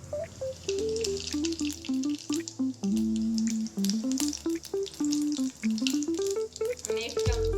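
A spoonful of cumin seeds hits hot oil that already holds mustard seeds, sending out a soft continuous sizzle with small crackles, partly masked by louder melodic background music.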